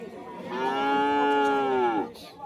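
A dairy cow at the Rajshahi city cattle and buffalo market gives one loud, drawn-out moo lasting about a second and a half, close by, with faint market background around it.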